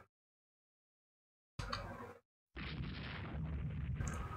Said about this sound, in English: we might have to retreat because this is just a little too much gunfire